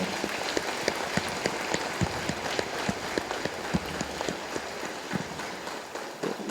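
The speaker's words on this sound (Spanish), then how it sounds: "Pues vamos a darles un aplauso, por favor." A church congregation at a solemn Mass claps together in steady, dense applause, with a crackling patter of many hands that holds for several seconds at an even level.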